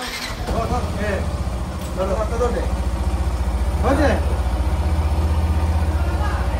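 A motorbike engine idles with a steady low rumble throughout, while people talk over it nearby.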